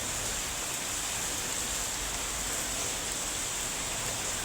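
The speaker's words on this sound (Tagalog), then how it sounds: "Ang lakas-lakas ng ulan." Heavy rain pours down outdoors by a soaked basketball court, a dense, loud, unbroken hiss that holds steady throughout.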